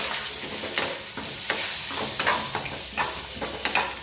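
Potatoes frying in oil in a pan: a steady close sizzle with repeated scraping stir strokes roughly every half second to second, no voices.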